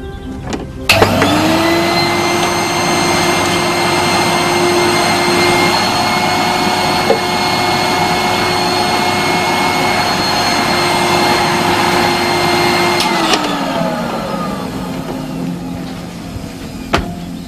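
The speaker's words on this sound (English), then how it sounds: "I have to hoover." A vacuum cleaner switches on with a rising whine, then hums at a steady, loud pitch for about twelve seconds before winding down; no talking.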